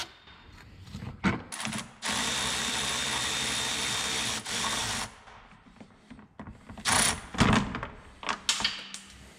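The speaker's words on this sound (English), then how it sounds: "Using your 10 millimeter, remove the two bolts that hold the fan shroud on the passenger side." Bolts on the passenger-side fan shroud of a Dodge Ram 3.9 or 5.9 engine being loosened with a 10 mm ratchet wrench, with a sustained stretch of rapid ratcheting clicks, then scattered clicks and knocks, close and without talk.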